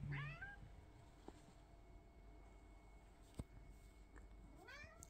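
A hungry orange cat meows a few times, one clear rising meow at the start and another near the end, fairly close, with a quiet room and a faint click between.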